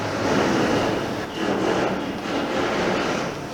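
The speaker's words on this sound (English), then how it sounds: "We've got them grinding out the other side now." An angle grinder works on metal during a budget bobber motorcycle build, giving a loud, continuous harsh grinding roar with slight surges, close by and without speech.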